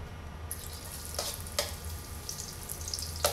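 Minced garlic frying in hot cooking oil in a pan, a soft steady sizzle with a few sharp crackles and pops, fairly quiet and heard alone.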